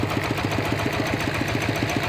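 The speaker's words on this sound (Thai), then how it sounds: "นี่แหละเป็นใส่รถไถนาเดินตามขนเข้ามาครับนี่" A walk-behind farm tractor engine runs steadily close by while hauling cassava stems. It chugs in an even, rapid pulsing rhythm, with no talking.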